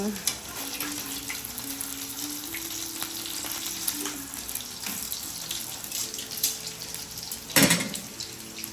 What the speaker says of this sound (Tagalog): Prito-prito lang tayo ngayon.